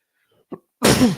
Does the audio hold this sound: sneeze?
yes